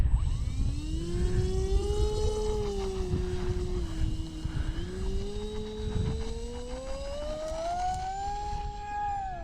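Durafly Me-163 V2 950mm RC model plane flying at full throttle, a loud, sustained motor whine whose pitch drifts and rises steadily over several seconds.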